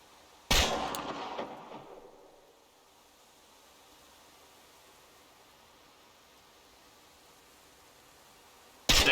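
Single loud gunshot at a shooting-range target in the Chernobylite video game, a sharp blast with a long decaying tail, then quiet room tone and the start of another shot at the very end.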